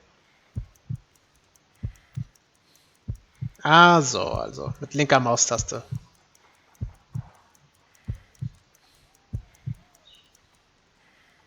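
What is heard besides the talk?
heartbeat in video game Sherlock Holmes: Crimes and Punishments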